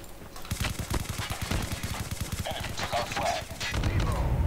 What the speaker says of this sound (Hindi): चलने की आवाज आ रही है